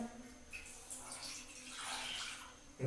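Water poured from a cup into a cooking pan for instant noodles, a soft splashing stream rising and falling over a few seconds, fairly quiet and close, with brief speech nearby.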